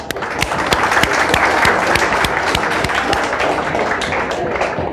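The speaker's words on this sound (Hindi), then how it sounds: "शानदार, ताली बजाओ जबरदस्त।" Students in a classroom burst into lively applause, dense and continuous clapping from a group close by, sustained steadily with sharp individual claps standing out and a faint voice or two mixed in.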